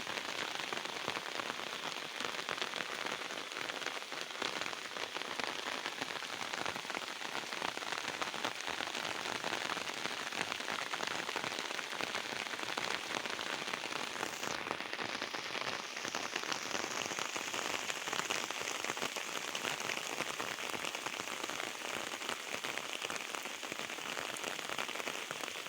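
Heavy monsoon rain pours steadily on a village, a dense, continuous wash of falling water and drops striking surfaces, loud and unbroken throughout with no voices.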